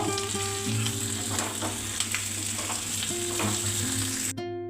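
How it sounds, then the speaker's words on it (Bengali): Onions and capsicum fry in a pan for chilli chicken, a constant close sizzle with occasional stirring scrapes over a steady background hum and a faint tonal drone, cutting off abruptly at the end. "এবার ক্যাপসিকামগুলোকে দিয়ে একটু ফ্রাই করে নেব"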